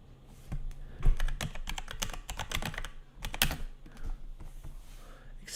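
Fingers type on a computer keyboard in quick, uneven bursts of close clicks and keystrokes during a Warhammer Underworlds game discussion, with short pauses between flurries.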